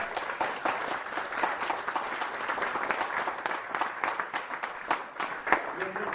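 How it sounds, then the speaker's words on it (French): An audience applauds for a president stepping down after ten years in office at an anniversary ceremony. Scattered, uneven clapping runs the whole time at moderate volume, loose and irregular rather than a dense roar. "qu'on peut applaudir"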